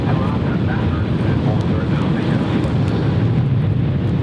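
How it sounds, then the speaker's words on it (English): Embraer E175 regional jet in United Express livery at Cleveland Hopkins airport, a steady broadband jet roar over gusty crosswind noise, continuous and fairly loud throughout, with a voice speaking briefly over it. "Here's our Delta Connection E175."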